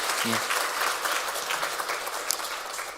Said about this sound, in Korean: 지금껏 수고했다고 우리 격려의 박수 한번 하겠습니다